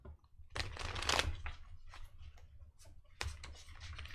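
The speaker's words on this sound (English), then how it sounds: "If I can shuffle the cards today." Tarot cards shuffled by hand at a reading table, with soft riffling and flicking bursts and light taps, quiet and close, with no talking.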